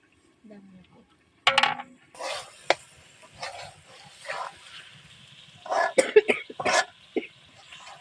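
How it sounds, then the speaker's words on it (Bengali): A few sharp coughs break out amid scattered household clatter, with people talking nearby and a dog barking briefly. "আমার কাশি হইছে"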